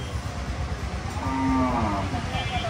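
A young female calf at a cattle market lets out a single drawn-out moo over low rumbling background noise, fairly close by.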